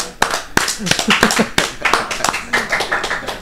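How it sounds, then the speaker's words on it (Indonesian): A few people clap their hands during a casual Indonesian football interview, sharp irregular claps heard close and mixed with overlapping talk and laughter. "Tepuk tangan dulu"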